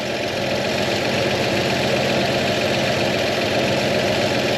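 The engine of an old truck called Old Yeller runs steadily, with a loud, continuous idling rumble and a faint rhythmic knock throughout.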